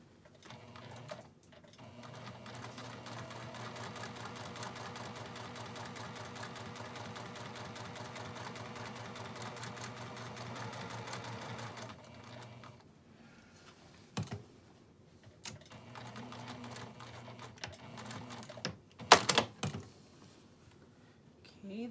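A sewing machine stitches a teacher's apron, running steadily and close for about twelve seconds, then in short stop-start bursts as it pauses and pivots at corners.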